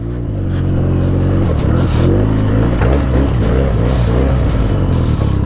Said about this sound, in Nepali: Oh my God, water crossing.